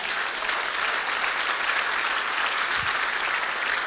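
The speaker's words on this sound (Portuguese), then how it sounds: "Você pode aplaudir ao Senhor?" A church congregation applauds steadily, with full and even clapping from many hands throughout.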